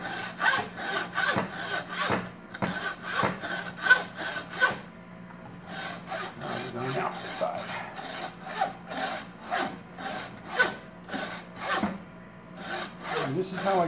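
A hand saw cuts through the skull plate of an antler in repeated rasping strokes, close and rhythmic, with a brief pause midway before the sawing resumes.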